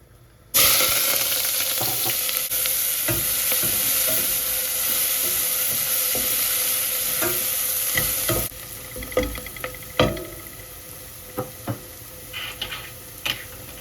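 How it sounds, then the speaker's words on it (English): Chopped onion drops into hot olive oil in a saucepan and bursts into a loud, bright sizzle that holds steady, then softens as scattered stirring clicks and clatters take over. "Some olive oil into another saucepan here. Add some olive oil. Drop in the onion."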